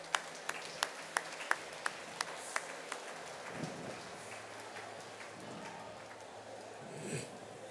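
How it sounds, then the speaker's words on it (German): An auction audience gives a round of applause after a lot is sold, starting with a few sharp separate claps that blend into a softer, diffuse clapping from a room crowd. "Ein grosser Applaus."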